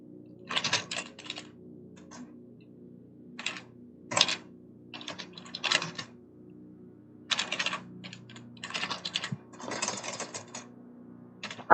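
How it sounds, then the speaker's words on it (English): Fast typing on a computer keyboard during a modded game session, heard as close, crisp key clatter in quick irregular bursts separated by short pauses, with no speech. "I'm going to be just typing until there."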